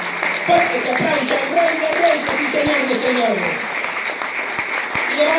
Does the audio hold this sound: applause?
yes